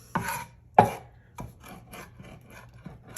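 A knife cuts and scrapes through fresh spearmint leaves on a cutting board for a honeydew salsa, giving two sharp chopping strikes followed by softer repeated rasping scrapes, close and fairly quiet.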